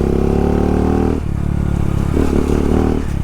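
A dirt bike engine on a trail ride runs loud and close, a steady harmonic drone that drops in pitch briefly before rising again with throttle, no voices over it.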